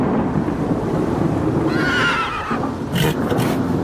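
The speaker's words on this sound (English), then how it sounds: "The horses neighed and swung their heads as they galloped onto Corpse Road" Horses neigh sharply in an audio drama's stormy scene, a loud whinny rising over a bed of rain and rolling thunder, followed by snorts and a few hoof sounds.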